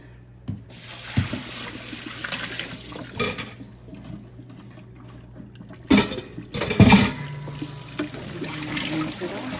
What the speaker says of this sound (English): Then what you want to do is drain it.